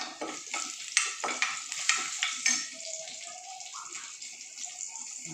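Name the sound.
garlic frying in oil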